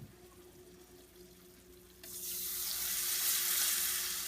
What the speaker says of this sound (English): Next, we're going to put the milk in.